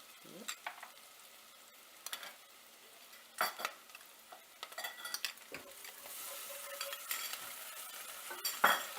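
Garlic paste goes into a frying pan during white sauce pasta cooking, with light sizzling, stirring scrapes and a few sharp utensil clinks and knocks at varying loudness, no talking.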